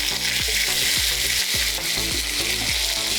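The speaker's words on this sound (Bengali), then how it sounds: "আদা রসুন বাটাটা দিয়ে আপনারা ঠিক 2 মিনিট এটাকে কুক করুন" Ginger garlic paste frying with reddish-browned onions in a pan for a restaurant-style chicken curry: a loud, steady sizzle that runs throughout, with background music underneath.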